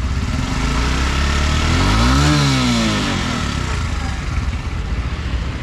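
A 2022 Suzuki GD 110S motorcycle idles close by with a loud, steady engine drone and a brief rise and fall of revs partway through, with no talking over it.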